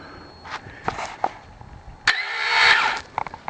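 An electric starter motor cranks a small engine fitted to a homemade Gas O Matix 9000. After a few light knocks comes one close, loud whirring burst of about a second that cuts off abruptly.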